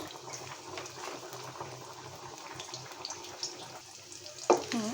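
Chopped onion, garlic and pre-fried dried chilli go into a hot pan for khichuri, giving a continuous soft sizzle and frying crackle. A sharper clatter or stir comes near the end.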